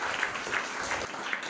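Applause from an audience of schoolchildren and guests in a school hall, a steady wash of clapping at moderate volume that holds throughout without any talk over it.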